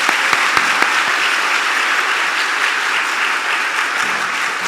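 A church congregation at a Sunday evening service applauding a son serving in the military, a full, sustained round of clapping from many hands in a large room, with a few sharp claps standing out at the start.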